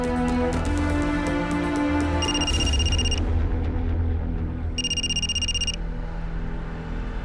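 A telephone rings with two bursts of bright electronic trilling, heard under a busy dramatic music bed in a crime drama scene.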